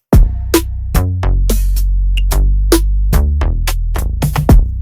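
A dancehall drum pattern with sharp percussive hits plays together with a deep Afro-style bass groove, steady and loud throughout, with no voices.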